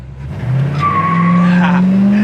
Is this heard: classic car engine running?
yes